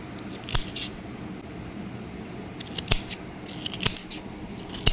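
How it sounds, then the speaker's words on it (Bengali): Star fruit (kamranga) being cut into pieces with a knife, a few sharp crisp cuts spaced out over a low steady background, close and moderately loud. "প্রথমে আমি এগুলোকে টুকরো টুকরো করে কেটে নেব"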